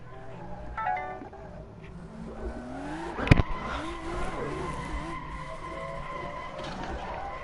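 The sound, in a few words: car sliding sideways in Assetto Corsa video game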